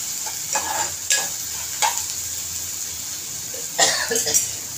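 Onions fry with ginger garlic paste for a potato bhaji, a steady close sizzle broken by several sharp spatula scrapes and stirs, with a brief cough-like sound in between.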